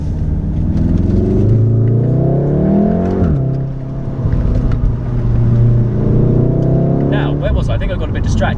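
A 2018 Volkswagen Golf R Mk7.5 hot hatch driven hard up mountain switchbacks, its engine loud and close as it revs, drops pitch on a shift, then climbs again with a steady sustained roar.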